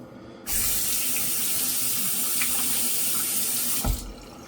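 Water runs steadily from a bathroom tap into a sink for a rinse after shaving, a close, even hiss starting abruptly and cutting off after a few seconds.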